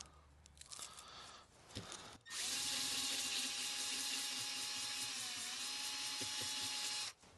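A 3 inch 240 grit NYMN sanding pad spins on a power tool, starting after a few brief handling knocks and holding a loud, steady high-pitched whine for about five seconds before stopping.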